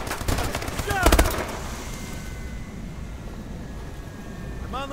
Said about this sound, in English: Shoot them dead.